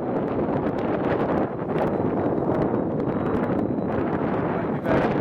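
Strong wind roars steadily into the microphone outdoors during a high-wind first flight of a brushless Super Cub RC plane, loud and buffeting throughout with a brief dip near the end.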